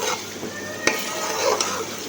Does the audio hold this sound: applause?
no